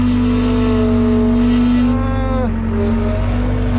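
Skid loader engine running steadily under load while digging, a loud close diesel drone with a shifting pitch as the machine works.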